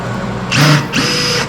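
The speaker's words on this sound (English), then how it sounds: "So we put this guy in here and we do a slight countersink" A power drill with a metal countersink bit cuts a shallow countersink in a screw hole for a wood board panel, giving two short, loud whirring bursts close by.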